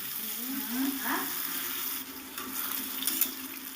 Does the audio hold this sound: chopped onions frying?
yes